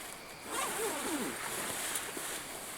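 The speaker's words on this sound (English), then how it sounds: "I just unzip it from inside of here." A hammock zipper is pulled open from the inside in a forest campsite, a brief close rasping zip lasting under a second against a quiet outdoor background hiss.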